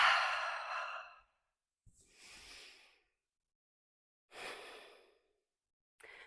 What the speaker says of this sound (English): And some deep breaths